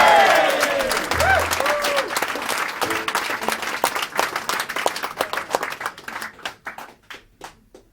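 An audience at a small live music venue applauds, with dense clapping and a few whoops that thin out into scattered single claps before stopping.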